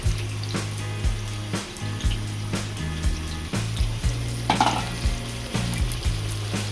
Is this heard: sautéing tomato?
yes